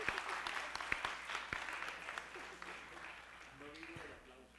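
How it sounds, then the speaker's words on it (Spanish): Audience applause at a panel discussion on art and resistance, a fairly sparse patter of clapping that swells at first and then thins out, with a few voices murmuring underneath toward the end. "Un aplauso para Fernando."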